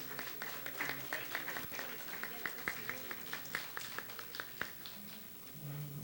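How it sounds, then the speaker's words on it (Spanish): Scattered applause from a forum audience on children's welfare in the State of Mexico, a smattering of individual claps rising and falling at moderate distance, with faint voices underneath. "un fuerte aplauso"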